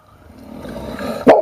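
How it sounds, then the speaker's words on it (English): Dog barking, one sharp loud bark near the end after a building rustle of background noise. "But she's a royal watchdog, Otis Griffin."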